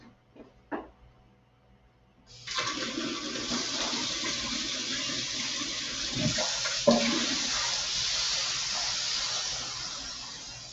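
Water poured into a very hot pan while cleaning it after cooking plant-based barbecue food, a couple of light knocks followed by a sudden loud, sustained hissing sizzle and spray lasting several seconds, close and steady.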